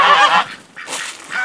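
Geese honking at breakfast time on a farm with ducks and chickens, loud close honks in a few bursts with short pauses between them and no one talking.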